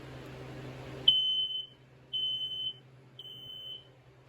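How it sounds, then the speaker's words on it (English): A Kidde FireX photoelectric smoke alarm gives three shrill, piercing beeps at an even pace, each about half a second long, after a low hum cuts out. "Here's the Kidda FireX photoelectric smoke alarm."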